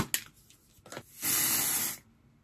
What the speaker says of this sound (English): I'll use some dry shampoo.